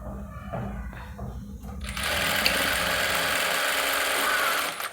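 An electric sewing machine stitching elastic palazzo pants starts up after a couple of seconds of quiet handling, then whirs in a fast, steady, close buzz until the end.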